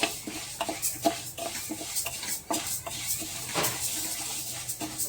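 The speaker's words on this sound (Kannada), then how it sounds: "ಈ ಹೆಸರು ಬೇಳೆನೂ ಕೂಡ ಇದೇ ಥರ ಲೈಟಾಗಿ ಫ್ರೈ ಮಾಡ್ಕೋಬೇಕ್ರಿ." Moong dal being stirred and lightly fried in a pan over low heat, with repeated soft scraping clicks of a spoon against the pan over a faint sizzle, no talk.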